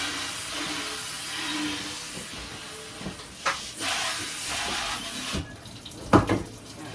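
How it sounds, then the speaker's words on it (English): Tap water runs steadily into a kitchen sink as seasoning is rinsed out, a continuous close hiss broken by a few louder splashes and knocks near the end. "So I rinsed all that seasoning out of the sink before it gets hard."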